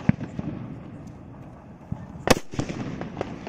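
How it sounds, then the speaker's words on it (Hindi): A hydro-type sutli bomb firecracker sets off one sharp, loud bang near the middle, with a few smaller pops and crackles around it over a steady noisy outdoor background. "हाइड्रो वाले सुतली बम को चला के देखते हैं सुतली बम कैसा चलता है।"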